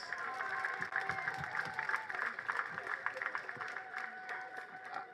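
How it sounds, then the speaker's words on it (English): Delegates at a party conference clapping their hands after a vote, a faint, steady patter of many claps from a crowd in a hall, with some voices mixed in. "All right, clap your hands."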